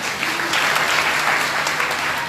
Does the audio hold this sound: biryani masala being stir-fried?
no